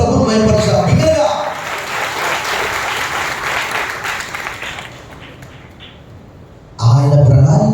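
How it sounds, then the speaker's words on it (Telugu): A church congregation at an Easter Sunday service breaks into loud, sustained applause to glorify the Lord, a dense wash of clapping from many hands that fades toward the end before a voice resumes speaking. "బిగ్గరగా చప్పట్లు కొట్టి ప్రభువును మహిమపరచాలి"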